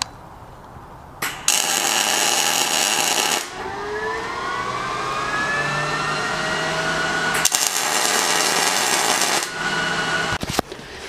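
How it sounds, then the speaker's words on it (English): Two tack welds fix a steel plate in place on an off-road finger brake build, each a loud, crackling, buzzing burst about two seconds long, separated by a quieter stretch with a faint rising whine. "give it 2 little tack welds to hold it in place"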